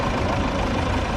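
A Massey Ferguson 290 tractor engine idles near a river, a steady low diesel rumble held close and loud for a brief moment with no talk.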